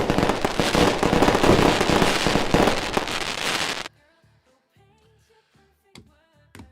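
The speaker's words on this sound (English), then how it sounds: "That's definitely fireworks." Fireworks or firecrackers crackle in a loud, dense burst for several seconds, then stop abruptly, followed by a few scattered sharp pops and quiet background sounds.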